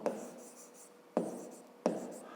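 Pen or chalk writing by hand during a fifth-grade maths lesson comes in three distinct bursts of scratchy strokes, each starting sharply and fading, close and clear.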